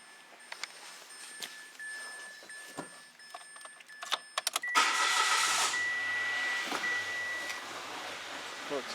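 Rough-running 1.2-litre engine of a 2017 Mitsubishi Mirage, recorded close: a low, uneven idle that rises into a louder, steadier surge partway through, with scattered clicks and small handling noises around it.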